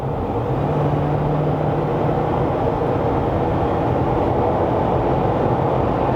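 A GWM Tank 300 with a turbo engine accelerates at full throttle, a loud, continuous low engine roar and road rumble heard from inside the cabin, steady throughout with no voices.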